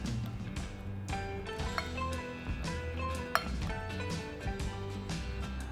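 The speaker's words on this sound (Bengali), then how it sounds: "মাছটাকে আমরা প্রথমে একটু ম্যাশ করে নিচ্ছি" Boiled coral fish, cooked with salt and vinegar, is mashed in a bowl, giving a steady run of clinks, taps and scrapes of utensil on dish close by, with one sharper knock partway through.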